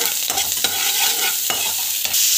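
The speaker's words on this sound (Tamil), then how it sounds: "காஞ்சி பிறகு வெங்காயம் பச்சை மிளகாய் போட்டுறோம். இது வந்து நல்லா வதங்கட்டும்." Onions and green chillies frying in hot oil give off a loud, constant sizzle, broken by a few spatula strokes scraping across the pan, heard up close with nobody speaking.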